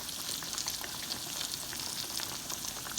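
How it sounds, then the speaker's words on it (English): Green tomato slices fry in hot oil in a pan, giving a steady, dense crackling sizzle heard up close with no voices. "just want to let this fry until it browns on the sides"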